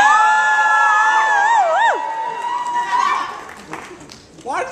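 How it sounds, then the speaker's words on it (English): A lively crowd at a festival finale variety show whoops and cheers loudly, with high sliding yells and shouts overlapping and rising and falling under a noisy room wash. "Why do they applaud?"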